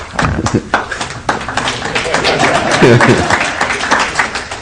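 Scattered clapping from a small lecture audience, uneven and somewhat close, with some voices and shuffling noise mixed in.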